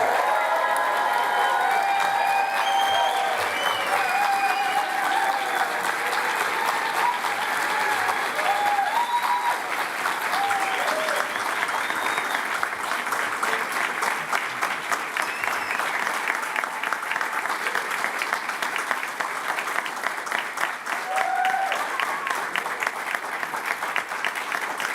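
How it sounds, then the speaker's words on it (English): Graduation ceremony crowd at a business and innovation institute breaking into sustained loud applause with cheering and whoops, a dense continuous roar of clapping lasting throughout. "let's raise the roof with a huge cheer and round of applause."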